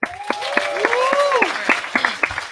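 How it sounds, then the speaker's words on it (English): Scattered clapping from an audience at a Dragon Con 2021 panel, with distinct sharp claps punctuating a mix of cheering voices and chatter. "Clap for Dragon Con."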